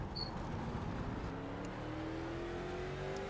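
Race cars in a NASCAR iRacing late model series race at Los Angeles drone steadily, with one engine note rising gradually as it accelerates under a continuous roar, moderately quiet and without talk.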